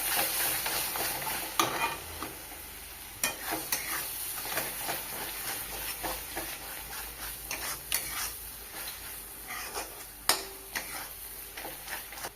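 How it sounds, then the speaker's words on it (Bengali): Spice masala with turmeric, chili and roasted cumin powder fries for a Bengali prawn malai curry, a steady sizzle under repeated scraping strokes of a spoon stirring the pan, close and without talk. "ভালোভাবে কষিয়ে নেব মশলার সাথে।"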